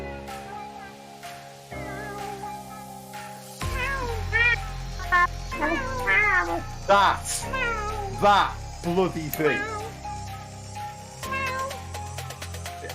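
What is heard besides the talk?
cat meowing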